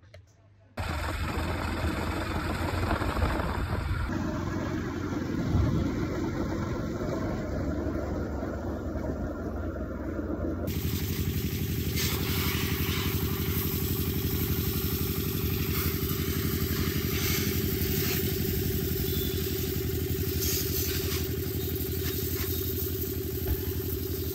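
A motorcycle engine idles steadily for over twenty seconds, a constant mid-pitched rumble with slight clatter, close and unchanging after a brief start.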